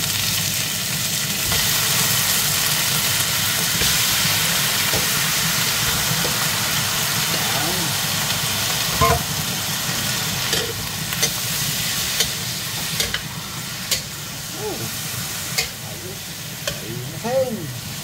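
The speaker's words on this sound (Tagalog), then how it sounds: "lagyan na natin itong chicken" Chicken pieces sizzle and fry in a pot for Filipino tinola, a continuous hiss with stirring scrapes and occasional clinks running the whole time.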